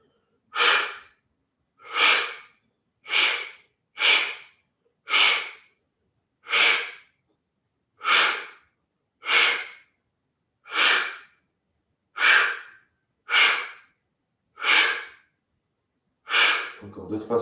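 Forceful blowing exhalations in a Kundalini yoga breathing exercise, thirteen sharp, evenly spaced bursts of breath through the nose or mouth, close and loud with silence between each one.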